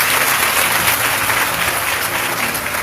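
A church congregation applauds together in acclaim of the Lord, a dense, steady wash of many hands clapping loudly and continuously with no pause and no talk over it.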